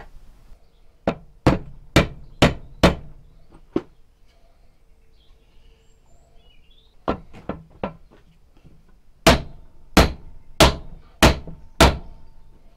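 A club hammer drives a wooden handle onto an axe head in sharp, ringing blows: a run of about six strikes, a quieter uneven cluster after a pause, then another steady run of six, close and loud.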